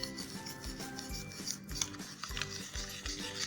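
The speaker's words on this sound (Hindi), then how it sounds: "तो हम इस तरह से मकई का आटा ना डालते जाएंगे और चमचा चलाते जाएंगे।" A spoon works maize flour and water into a smooth paste in a bowl, quiet close scraping and swishing in a steady rhythm of repeated strokes, with no voices.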